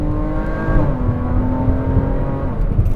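A Porsche 981 Cayman S fitted with F1 headers accelerates hard from inside the cabin, its engine note climbing steadily and shifting sharply in Sport Plus mode, loud and continuous on a freshly paved road.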